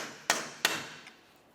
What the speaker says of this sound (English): Now let's use a hammer and punch